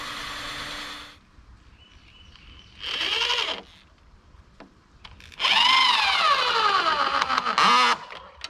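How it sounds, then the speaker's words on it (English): A screw gun drives screws into barn wood, giving a short whir, then a brief burst, then a longer loud whine that rises and falls in pitch, all close and separated by quiet gaps. "You hand me the screw gun"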